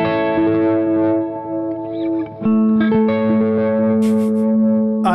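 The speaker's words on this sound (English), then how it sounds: "I submit to you that this sounds every bit as good as an actual oil can delay" A guitar chord rings out through an oil can style delay effect, a sustained, warbling, soupy tone with repeating echoes that slowly decays, alone and fairly loud.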